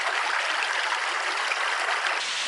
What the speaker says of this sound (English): there's actually a waterfall out here in the desert. Can you hear the roar?